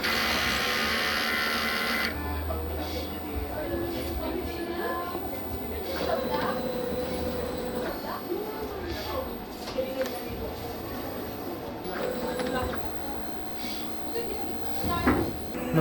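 A DTF printer runs a print head cleaning cycle, its motors and pumps whirring and clicking steadily with some sliding mechanical shifts, close by, while a person talks over it.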